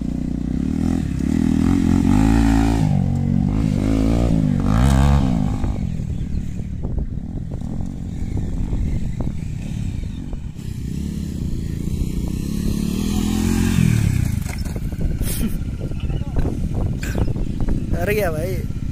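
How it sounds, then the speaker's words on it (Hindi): Dirt bike engines rev and roar up close during racing training, rising and falling loudly with clattering and scraping over continuous talk. "मैं ये वीडियो में आप लोगों को डर्ट बाइक रेसिंग का ट्रेनिंग कैसे करते हैं उन लोग, वो भी दिखाऊंगा"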